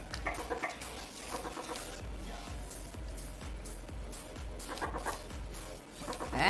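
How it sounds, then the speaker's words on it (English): Chicken clucking in a video game, repeated soft clucks over a steady rhythmic background of game music and ambience, moderately loud without talk. "Hey, what up, chicken?"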